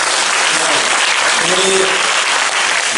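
A church congregation claps warmly in a steady, dense round during an Easter Sunday service, and a brief spoken word rises over it.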